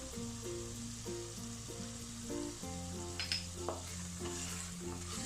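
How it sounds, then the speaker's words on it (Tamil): Masala sautéing in a pan with garam masala just added, a steady soft sizzle with occasional stirring scrapes over a quiet background music bed, no voices. "பாருங்க, ஒரு 5 நிமிஷமாக வதங்கிட்டு இருக்கு"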